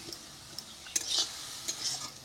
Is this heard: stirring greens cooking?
yes